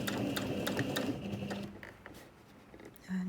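A sewing machine stitches a zipped make-up pouch in a steady mechanical run of rapid needle clatter, slowing and pausing toward the end before a brief restart.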